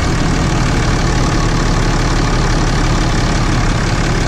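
A Cummins diesel truck engine runs at a steady idle, a dense low rumble with constant loudness from start to finish and no voices over it.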